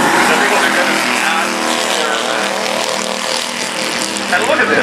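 Bandolero race cars run bumper to bumper in a feature race, a loud, continuous drone of several revving engines passing close, with a commentator talking over it.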